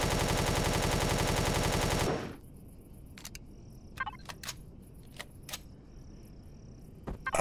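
Rapid automatic gunfire from a weapon aimed at a turret in Empyrion Galactic Survival, a loud dense burst for about two seconds that cuts off abruptly, followed by quieter scattered clicks and thuds.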